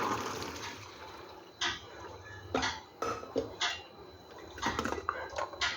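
Water is poured off boiled peanuts fresh from a pressure cooker: a splashing, gurgling drain with sharp clatters of the pot and lid in irregular bursts, close by and loudest toward the end, with no talking.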